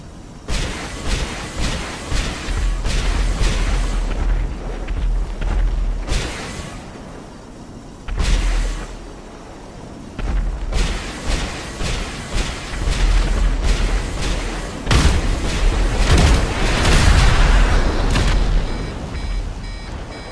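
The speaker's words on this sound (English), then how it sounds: "And I'm gonna be firing missiles at him." Missiles fired from an APC in GTA set off repeated booming explosions and bursts, loud and close, in irregular clusters with brief lulls between them.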